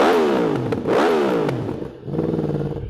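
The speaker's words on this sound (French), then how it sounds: "Oh le shifter il est vraiment trop cool. Il donne un petit à-coup, la déflagration elle est folle." A 2024 Yamaha R1 sport motorcycle revs hard and snaps through quickshifter gear changes, its engine note climbing, dropping sharply at each shift, then climbing again, with a loud close exhaust.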